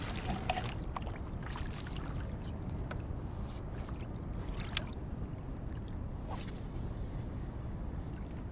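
Boat being paddled out into deeper water on a foggy day while fishing, soft steady water wash and lapping with occasional faint splashes and knocks, fairly quiet and close.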